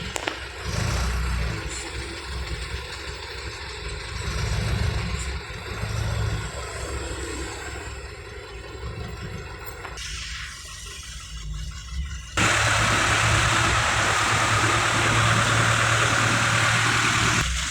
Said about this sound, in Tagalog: Ganito ang traffic ngayon dito mga kadon.